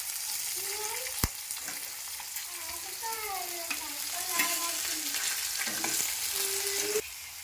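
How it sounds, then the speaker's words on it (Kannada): Ajwain seeds, curry leaves and chopped onion frying in a hot pan, a steady sizzle with occasional stirring scrapes and faint pitched tones drifting over it, a sharp click near the start. "ಸ್ವಲ್ಪ ಅಜ್ವಾನ್ ಹಾಕೋರಿ ಕರಿಬೇವು ಹಾಕ್ರಿ ಕಟ್ ಮಾಡ್ಕೊಂಡಿರೋ ಉಳ್ಳಗಡಿ ಹಾಕೋರಿ"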